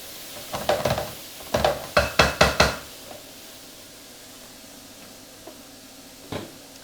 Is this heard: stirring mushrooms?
yes